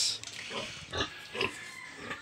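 Oversized pig raised for slaughter at a Philippine farm grunting in several short, rough bursts at close range, each grunt spaced about half a second apart over a low background hum.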